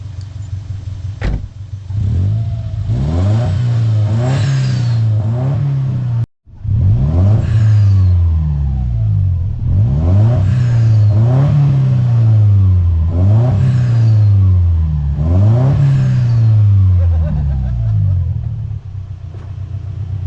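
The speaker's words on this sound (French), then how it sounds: "quand tu accélères et que tu lâches l'accélérateur, c'est là où ça doit faire psh" A Subaru fitted with a cheap AliExpress turbo revs repeatedly, the engine note rising and falling in a steady rhythm of about six pulls, each followed by a blow-off hiss, loud and close with a brief cut midway.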